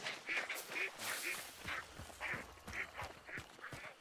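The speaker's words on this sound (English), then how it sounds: "Hey there, duckies!" Ducks in a video game quack in a steady run of short nasal calls, roughly two per second, close and clear over faint background game sound.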